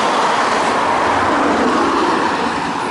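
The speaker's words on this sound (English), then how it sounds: "you do have the noise of the traffic" Road traffic rolls past along a roadside near a valley walk, a steady broadband roar of passing vehicles that stays loud and unbroken throughout.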